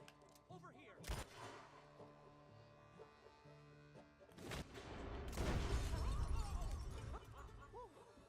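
Gunshots in a film scene, sharp loud cracks at intervals over a busy soundtrack with rumbling noise building toward the end.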